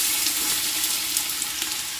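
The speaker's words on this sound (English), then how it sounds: "I fry my onions first." Onions sizzle steadily in oil in a very large pot while a family meal is cooked, a close, continuous frying hiss with no voices over it.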